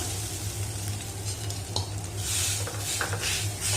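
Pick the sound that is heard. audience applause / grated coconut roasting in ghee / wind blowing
grated coconut roasting in ghee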